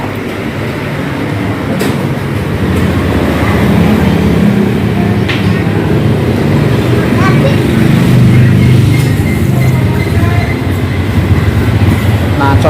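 A Honda Beat scooter engine with a hesitating, stuttering fault runs steadily and loudly close by, a continuous low rumbling drone with brief clicks, under faint background talk.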